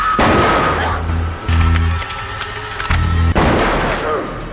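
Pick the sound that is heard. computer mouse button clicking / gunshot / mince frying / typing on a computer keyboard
gunshot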